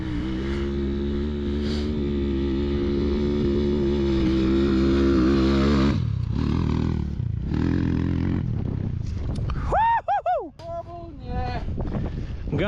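A Hengjian motorcycle engine roars steadily after a push start, loud and close, its pitch dropping as it settles into an uneven idle with a few short revs near the end.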